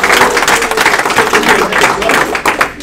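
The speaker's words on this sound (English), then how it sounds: "let's give her another round of applause." A small audience gives Melanie Bonita another round of applause, with loud, close clapping in uneven bursts over a few seconds.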